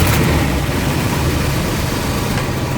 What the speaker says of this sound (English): I don't know if I got a leaky exhaust manifold, as Chris may have suspected